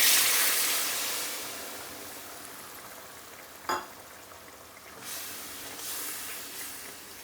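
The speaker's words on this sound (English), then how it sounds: "Now I'm going to add a bit of water." Water poured into a pan of hot oil with spices for an Indian lemon chicken dish gives a loud broad hiss and sizzle that fades steadily, with a brief sharp spatter midway and softer bubbling after.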